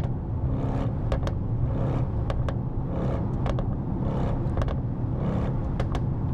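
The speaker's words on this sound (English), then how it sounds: "That's just the pops and bangs element." A Mercedes-AMG GT 63 S engine hums low and steady while sharp exhaust pops and crackles burst out irregularly, several quick bangs scattered over the running motor.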